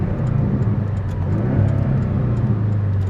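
A 2019 Porsche 718 Cayman with PDK gearbox and a flat-four engine accelerates, its loud, steady engine drone and low rumble filling the cabin without a break.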